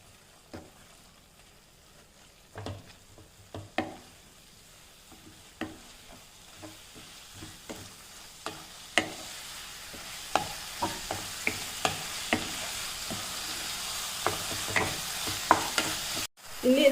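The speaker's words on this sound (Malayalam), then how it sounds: "ഇത് നമുക്ക് നന്നായി ഒന്ന് ഇളക്കി കൊടുക്കാം." Coriander and mint leaves being stirred into frying chicken biryani in a pot, with a steady sizzle under repeated sharp scrapes of the spoon that grow busier and closer toward the end.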